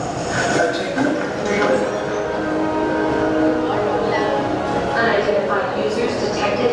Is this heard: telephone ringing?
no